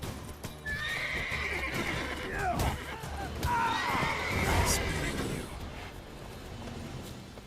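A horse in the video game The Witcher 3 lets out loud, drawn-out neighs and whinnies over steady clip-clopping hooves, with people talking over it.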